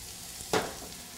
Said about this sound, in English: You can hear them sizzle as they hit the pan.